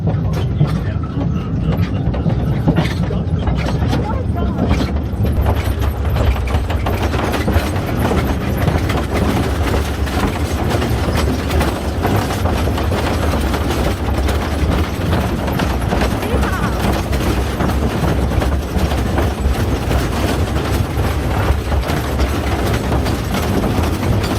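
Pioneer Tunnel mine train rolling along underground after its brake is released, a loud steady rumble with rattling wheel clatter throughout, and people talking over it.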